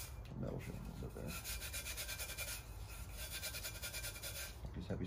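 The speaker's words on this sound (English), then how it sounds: "You're using like real fine grit sandpaper." Fine-grit sandpaper rubs steadily over an epoxy-coated tumbler in quick back-and-forth strokes, a close, continuous scratchy hiss that runs the whole time with light talk in the background.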